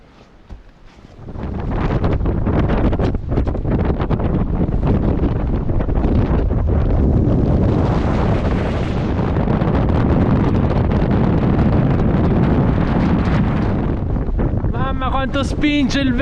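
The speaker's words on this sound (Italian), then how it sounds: "Quanto spinge il vento!" Strong wind gusting over an exposed lookout in Tierra del Fuego National Park, Argentina, a loud, sustained roar with buffeting microphone rumble that rises sharply after a quiet start and holds steady, with a voice briefly heard near the end.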